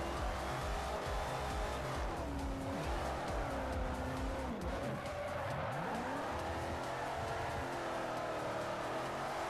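A Plymouth Hemi Cuda in the racing game Forza 4 drifts with a continuous engine roar and long sliding tire squeals that rise and fall in pitch, loud and sustained throughout.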